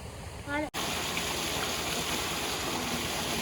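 Irrigation water is released and flows into a farm field, making a steady, loud rushing and gurgling wash that starts abruptly after a brief voice-like call and then continues without a break.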